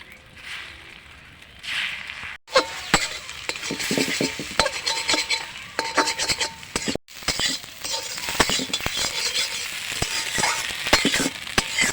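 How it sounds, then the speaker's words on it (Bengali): An egg is scrambled in oil in a wok, loud crackling sizzle broken by repeated spatula scrapes and metallic clinks against the pan, stirring in irregular bursts. "তো আমি ডিমটা ঝুরি করার জন্য এখানে তেল দিয়ে দেবো"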